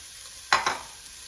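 Two diced onions hitting a lightly oiled hot pan and being stirred, a brief burst of sizzle and scraping in two quick strokes, close and fairly quiet, with no talking.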